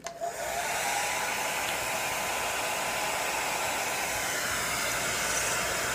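A hair dryer blowing heat onto Jamberry nail wraps, a loud steady airy whoosh that starts abruptly and holds constant throughout with no talking.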